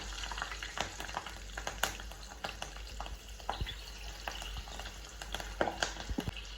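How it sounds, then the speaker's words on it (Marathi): Green chillies fry in hot oil, a continuous close sizzle and crackle with scattered sharp pops and stirring sounds throughout. "त्यात आपण मिरच्या तळून घेऊयात"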